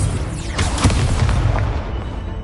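The Confringo fire spell goes off in Hogwarts Legacy, a loud deep boom with a crackling burst that rumbles and fades over a couple of seconds.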